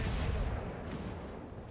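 A heavy, continuous roar of naval gunfire from the Bismarck battleship in World of Warships: dense, booming low rumble with broadband noise that holds steady through the moment, with no talk over it.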